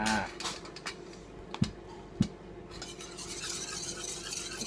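Steamed goby fish being mixed with soy sauce and sesame oil, heard as a few soft stirring and scraping sounds with two sharp clinks of utensil on dish, close by with no talking.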